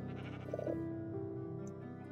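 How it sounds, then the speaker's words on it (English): A Minecraft sheep gives a bleat, a wavering nasal call heard clearly on its own, followed by a low murmur of game ambience. "I thought that sheep was going to enter here"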